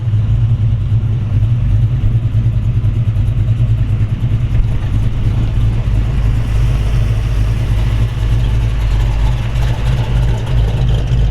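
A Chevy 350 V8 in a 1932 Ford Model 18 highboy roadster hot rod idles steadily, its deep, loping rumble close and loud and holding even throughout, with no voices over it.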